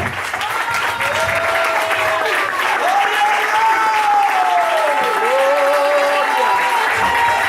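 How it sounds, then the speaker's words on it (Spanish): A church congregation applauds loudly and steadily during an evangelical service, with a sustained wash of clapping and a voice or instrument tone gliding over it. "Dame un aplauso al Señor fuerte"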